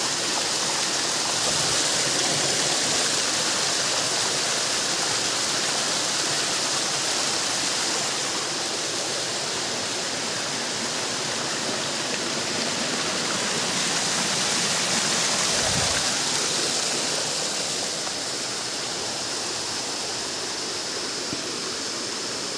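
Salugsog Falls, a waterfall, roars steadily and close for the whole stretch, a dense unbroken rush of falling water with no voices over it.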